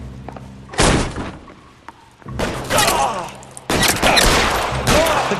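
Gunfire in an audio drama: three loud bursts of shots and blasts, the first short and sharp, the last two long and sustained like heavy volleys, with quieter gaps between them.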